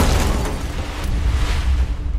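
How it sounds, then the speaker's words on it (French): A British Airways Flight 5390 cockpit windscreen blows out at altitude with a loud, sustained, rumbling crash like an explosion. Heavy low roaring and rushing noise fill the whole stretch without letup. "S'ensuit un fracas infernal, comme une explosion."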